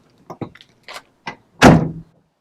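Heard from outside, a VW camper's sliding door with newly fitted second door seals closes: a few light clicks and taps lead into one loud, solid thunk that rings out briefly.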